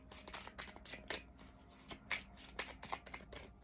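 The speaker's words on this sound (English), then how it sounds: "Okay, one more shuffle." Tarot cards being shuffled up close, a quick series of riffling, papery bursts with brief pauses between them.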